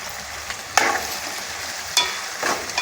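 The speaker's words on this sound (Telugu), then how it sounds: "మొత్తం ఇలా కలుపుకుందామండి ఇప్పుడు" Prawns and ridge gourd curry being stirred in a frying pan, a soft steady sizzle broken by a few sharp scraping strokes of the spoon, close up with no talking.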